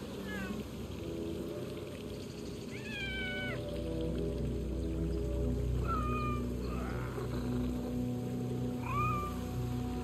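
Several cats meow in the video game Assassin's Creed Mirage, a handful of distinct rising-and-falling cries spaced a few seconds apart over a faint ambient bed of low murmur and soft background noise.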